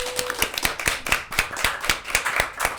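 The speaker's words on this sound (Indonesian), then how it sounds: "boleh tepuk tangannya, boleh, nggak apa-apa" A small group claps in distinct, fairly rhythmic sharp claps, roughly a dozen strikes with a few scattered extras, close by and without talk.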